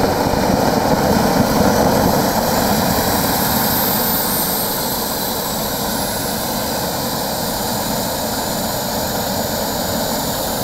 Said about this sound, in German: So, und jetzt ist die Turbine schon auf Drehzahl